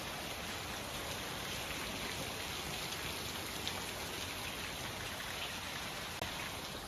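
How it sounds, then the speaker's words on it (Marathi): Heavy rain pours steadily outside a small home during the festive season, a dense, even hiss of drops close by and continuous throughout, with no talking. "किती जोरात चालू आहे पाऊस"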